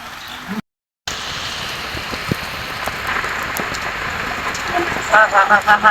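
Rain falls in a steady hiss, with a brief dropout near the start and some louder thumps and movement toward the end.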